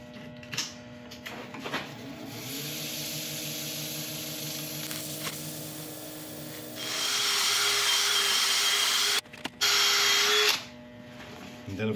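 Laburnum wood spinning on a lathe is buffed with abrasive paste, giving a steady high whirring hiss that swells louder partway through, broken by brief pauses and sharp tool clicks near the end.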